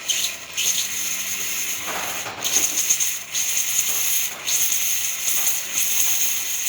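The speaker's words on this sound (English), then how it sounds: "And now we're going to be testing the steam function of the machine." Steam from a DeLonghi Gran Dama Deluxe steamer machine, a steady airy hiss that surges and dips in several bursts, with a faint low hum fading out early.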